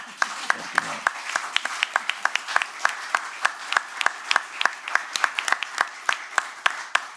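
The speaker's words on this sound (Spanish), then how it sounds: "le pido un aplauso de todos" Sparse, moderately quiet applause from the audience at a round-table talk, with individual claps standing out in a loose, uneven rhythm throughout.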